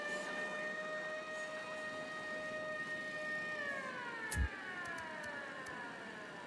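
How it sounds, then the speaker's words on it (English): An alarm siren wails steadily in the Ghost Recon Wildlands video game, its tones sliding downward partway through, loud and continuous with a few sharp clicks near the end. "Was the alarm supposed to go off?"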